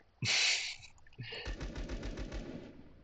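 Gunfire from BP (armour-piercing) ammunition in the video game ZERO Sievert: a loud single shot, then a rapid, evenly spaced burst of about half a dozen punchy shots, close and prominent with no talking.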